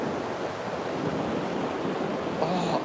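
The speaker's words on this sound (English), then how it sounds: "the sound of the ocean is just incredible" Ocean waves wash steadily onto the shore during a seaside walk toward town, with continuous surf and rushing wind noise close to the microphone and nobody speaking.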